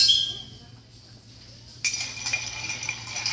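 A bourbon cocktail is stirred in a glass to chill it. Light, bright clinks ring against the glass, sparse at first and then a quicker run of small chimes, all quiet and close.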